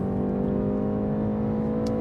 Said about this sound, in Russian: А когда ты начинаешь прогазовывать, да, сразу мотор слышно.